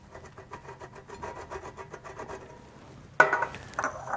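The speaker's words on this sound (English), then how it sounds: "And grate a little bit more Parmesan cheese." Parmesan cheese grated by hand over a plated mushroom risotto, heard as a steady run of quick, rhythmic rasping strokes close by, followed by a louder scraping burst near the end.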